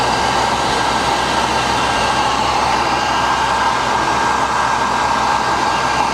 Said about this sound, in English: we need to use a heat gun